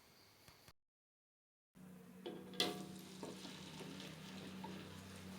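Rengginang, salted rice crackers, frying in hot oil, a steady low sizzle with a few stirring clinks and bubbling bursts after a short stretch of silence.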